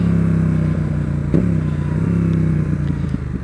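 A Yamaha XSR700 ABS motorcycle engine running steadily up close, a deep droning rumble with a brief rattle partway through, the pitch holding fairly even.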